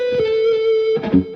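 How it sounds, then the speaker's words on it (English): Electric guitar with distortion, delay and reverb plays a single sustained, ringing note that is then followed by a brief second picked note, close and clear with no talking. "And I added some distortion with some delay,"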